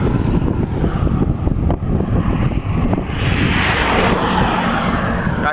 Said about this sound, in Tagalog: Yan, mahangin siya sa area nito.